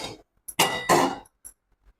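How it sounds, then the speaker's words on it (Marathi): A big metal kadhai pan clanks as it is picked up in a home kitchen, giving a couple of short, loud ringing metallic knocks close by with small taps around them and no voices. "आता मी मोठी कढई घेते."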